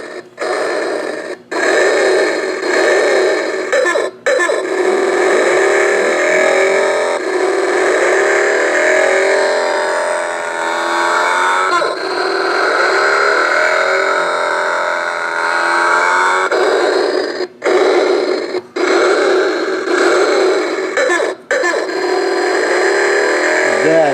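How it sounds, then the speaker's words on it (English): An alarm clock plays a motorcycle engine revving loudly and continuously, its pitch rising and falling, with a few brief drops in between. "It will wake you up to the revving of the engine."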